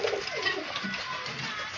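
A domestic pigeon that had been recovering from a throat illness, heard in a steady bird-filled setting with soft cooing and calls, continuous and moderately near, no talk.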